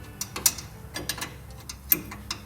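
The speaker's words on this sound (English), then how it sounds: "you can loosen the rest of the nuts and bolts" A hand ratchet clicks in short, uneven bursts while loosening radiator nuts and bolts on a Nissan Xterra, Pathfinder or Frontier, close up and fairly quiet, with no talking.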